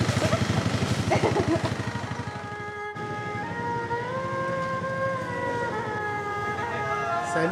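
A motorcycle engine idles close by on a Thai street, opening with a rapid pulsing chug before settling into a steady running tone, with faint voices nearby.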